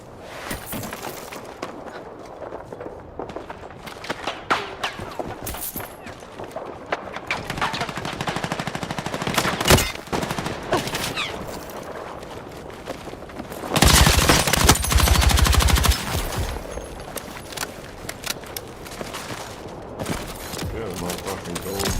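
Gold machine gun in the video game Battlefield firing in sustained bursts of rapid shots, loud and close, with a heavier barrage near the middle, amid other battle noise.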